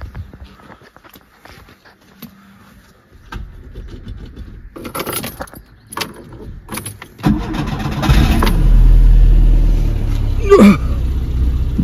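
Škoda Favorit Silver Line car engine cranking and catching near the end, settling into a loud close idle after earlier rustling, footsteps and a key jangle.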